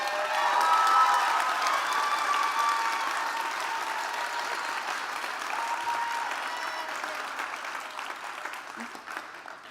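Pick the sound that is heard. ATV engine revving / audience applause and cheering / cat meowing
audience applause and cheering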